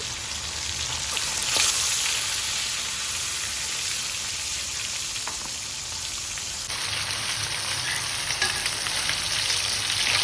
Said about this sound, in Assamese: মাছকেইডোখৰ এনেদৰে ভাজি লৈছোঁ